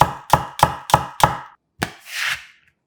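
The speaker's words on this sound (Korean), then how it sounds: "양파 반 개는 굵게 채 썰어 준비하고 대파 4분의 1개는 도톰하게 송송 썰어주세요" A knife cuts through half an onion and a quarter of a green onion on a cutting board, giving five quick, evenly spaced chops. A softer, separate cut follows, then a brushing scrape. The sounds are close and crisp, with no talking.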